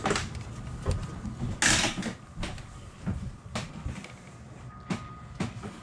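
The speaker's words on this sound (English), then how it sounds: "Cabin through this sliding door." A sliding cabin door on a Hunter 42 Passage yacht rumbles and clatters as it moves in its track, with several knocks and rattles over steady background noise, close and fairly loud.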